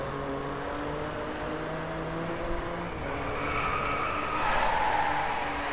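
A car drifting in the Driveclub racing game, steady engine drone with tyre skid squeal rising toward the end, close and continuous without voices.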